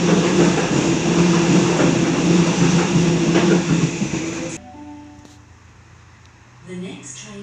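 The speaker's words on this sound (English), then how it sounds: "Passing Platform 1, we have a Richmond service" A commuter train rumbles loudly past a station platform for about four and a half seconds with steady wheel and carriage noise, then cuts off sharply, leaving quieter platform ambience with faint tones and a brief later rise.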